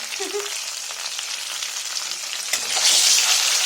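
Boiled eggs fry gently in oil in a pan, cooked lightly as part of making chicken biryani at home; a steady, close sizzle with bright crackling that swells louder toward the end, no talking.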